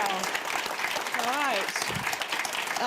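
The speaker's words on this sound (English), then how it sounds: "It's a big round of applause." Audience applause after a keynote at a digital research summit, a steady wash of clapping for about three seconds while a voice speaks over it.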